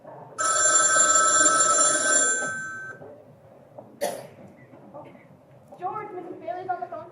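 An old-fashioned telephone bell rings loudly for about two seconds, then stops; a cough and short voices follow afterward in a quiet room.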